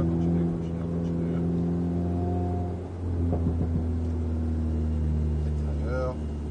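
An Alpine car accelerates on the track at the Alès mechanics centre, heard from inside as a loud, steady engine drone with strong low harmonics and a slight swell in revs. Someone talks over it.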